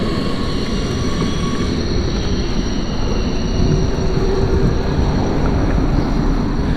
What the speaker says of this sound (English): racing the tram, racing the tram.